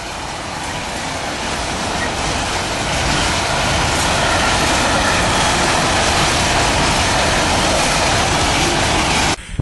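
A coal train passes close by on the line beside a riverside country path in Cumbria, a loud steady roar of rolling wagons that swells and holds for several seconds before cutting off abruptly.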